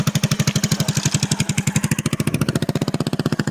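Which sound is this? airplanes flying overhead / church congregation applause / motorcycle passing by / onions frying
motorcycle passing by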